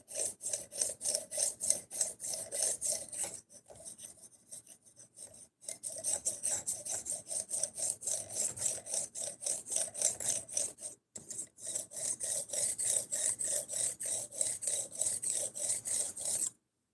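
Knife blades, including a fixed blade, being sharpened with steady back-and-forth rasping strokes, close and continuous, with two short pauses; no talking.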